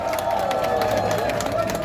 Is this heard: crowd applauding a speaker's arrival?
yes